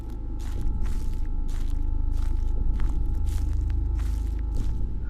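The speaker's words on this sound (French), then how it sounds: "Et si je bouge pas et que j'entends ces bruits de pas à lui?" Footsteps in the horror video game Slender, a run of regular crunching steps at about two per second over a low rumbling drone, with no talking.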